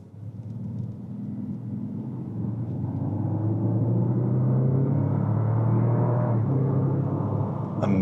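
2015 Bentley Flying Spur accelerating on the road, a steady low engine rumble from inside the cabin that builds gradually in loudness and holds, with no talking.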